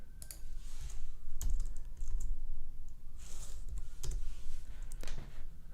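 Quiet typing on a computer keyboard, a steady patter of soft key clicks with a few sharper, louder keystrokes scattered through, heard alone at close range.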